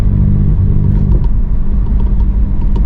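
A BMW M235i engine rumbles loud and close, a steady deep idle-like drone with slight revving swells over about three seconds, no talking.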